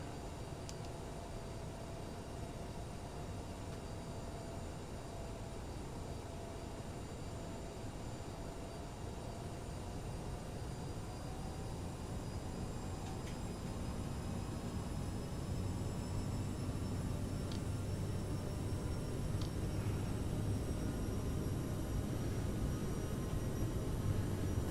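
Steady, broadband jet engine roar from a CRJ900 airliner rolling down the runway for takeoff in a flight simulator, building gradually in loudness with a rising tonal whine and faint intermittent clicks, no talk over it.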